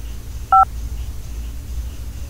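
A single short DTMF keypad tone from a telephone menu for approving or cancelling card charges, one crisp beep near the start over a low steady background hum, with no voices.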